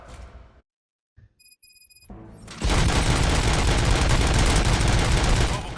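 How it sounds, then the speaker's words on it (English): Gunshots in RoboCop: Rogue City, a quiet stretch with faint electronic beeps suddenly giving way to loud, sustained bursts of automatic gunfire that fill the rest of the clip. "Gunshots? What's going on?"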